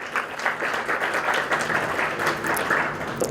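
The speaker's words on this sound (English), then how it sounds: "Please give him a big round of applause." A convention audience at PAK PIONEERS 2015 applauds a speaker being called to the stage, giving steady, dense, fairly distant clapping that holds at a moderate level throughout.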